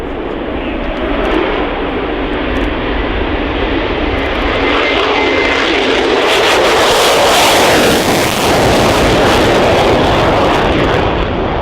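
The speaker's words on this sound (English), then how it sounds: "here comes the F-35A" An F-35A fighter jet passes at the RIAT airshow with a loud, continuous roar that swells and thickens toward the middle of the pass and stays powerful throughout.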